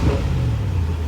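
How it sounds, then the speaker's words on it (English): A 2016 Range Rover Sport SVR's exhaust revving, a loud, steady low rumble that stays dense and close throughout, with no talk. "Listen to the exhaust."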